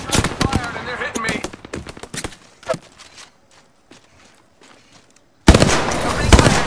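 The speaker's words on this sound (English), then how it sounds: "Gunshot fired and they're hitting me." Rapid bursts of automatic gunfire from the Apex Legends video game rattle loudly at the start, give way to sparse single shots and quieter footsteps, then erupt again into a dense volley at the end.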